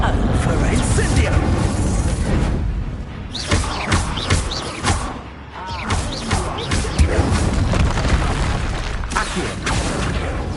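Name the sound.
Incendio fire spell being cast, from the video game Hogwarts Legacy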